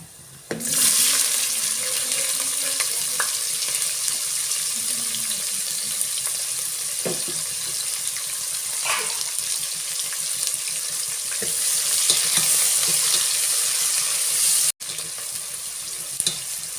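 Onions fry in a pan, browning under a loud, even sizzle that starts abruptly and holds steady for most of the stretch before dropping off sharply near the end, with no voices.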